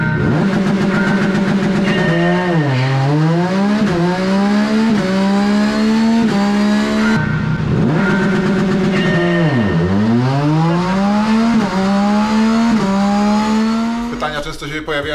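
Tuned motorcycle with a full remap and launch control, engine held against a pit speed limiter set near 5,500 rpm, loud close buzzing revs that repeatedly climb and bounce off the cut, with a voice talking over it.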